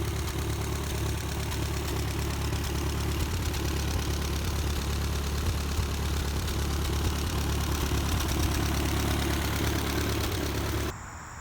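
An early Ford 8N tractor engine idling at dusk: a steady, loud low-pitched chug with a constant rattling mechanical drone that holds unbroken for about eleven seconds, dropping slightly at the very end, with no talk.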